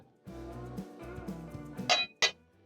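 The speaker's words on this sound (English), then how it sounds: "you're going to place a pot or a pan over medium flame." Metal pot or pan set on a stove over a medium flame, with a couple of sharp metallic clinks near the end over a background of low, steady tones.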